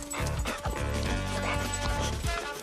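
Dog in a French comedy film barking in a quick run of loud, close yaps and yips, nearly continuous for a few seconds.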